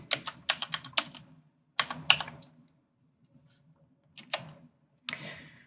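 Quick bursts of typing on a computer keyboard, several rapid keystrokes in clusters separated by pauses, with a few isolated key taps later; close and clear with no talking.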